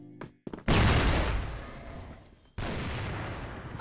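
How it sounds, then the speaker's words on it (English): A smoke grenade goes off in the CrossFire shooter game: a sudden loud burst after brief clicks, then a sustained hissing roar of gas that dips and resumes, loud and close throughout. "Smoking grenade!"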